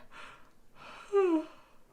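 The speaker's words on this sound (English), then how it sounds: "first I have to work on this yawn" A single close human yawn: a breathy intake swelling into a drawn-out, voiced groan that slides downward before fading.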